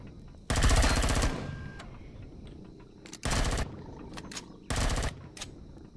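Enemy gunfire in the video game Empyrion Galactic Survival: three loud rapid-fire automatic bursts, each under a second long, separated by quieter gaps of faint ambience and scattered clicks.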